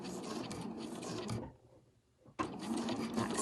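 Sewing machine back stitching at the start of a seam on an overlocker cover, a steady close whir that stops briefly for the reverse and then resumes.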